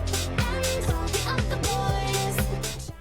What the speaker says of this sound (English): What if you added some deep-fried country guitar into the mix?